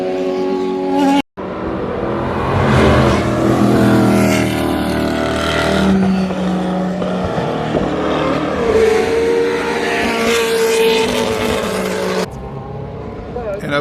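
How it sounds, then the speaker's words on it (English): A historic Porsche sports car races at Road Atlanta during a historic sportscar event, its deep, throaty engine roaring steadily and rising and falling with the revs. A voice talks over the engine noise. "There is a Porsche out here."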